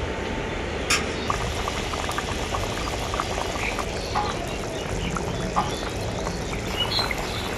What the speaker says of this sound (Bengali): মাছ দেওয়ার পর ঝোলটা আমি আবারও খুব ভালো করে ফুটিয়ে নেব।